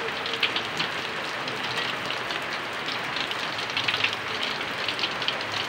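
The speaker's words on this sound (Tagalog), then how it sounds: "Oh, lakas ng ulan. It's rainy." Heavy rain pours steadily as a dense, loud, unbroken hiss of drops hitting surfaces, filling the whole stretch with no pauses.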